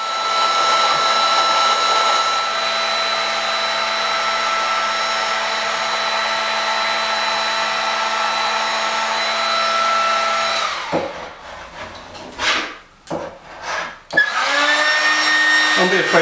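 Hot air gun blowing steadily and loudly while stripping gloss paint off a wooden door frame, a continuous whirring roar with a faint tonal whine, cutting off near the end into brief bumps and scraping before restarting.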